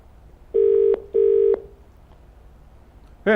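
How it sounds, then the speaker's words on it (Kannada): An unanswered telephone call rings out on the line: two clear, loud ringback tones in quick succession, each under half a second, followed by quiet line hiss. "ರಿಂಗ್ ಆಗ್ತಾ ಇದೆ, ಯಾರು ಕೂಡ ರೆಸ್ಪಾಂಡ್ ಮಾಡ್ತಿಲ್ಲ"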